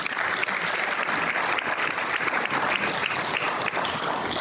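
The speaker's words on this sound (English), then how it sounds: "Please give him another round of applause." A crowd claps steadily for several seconds, a dense, even round of applause with no voices standing out.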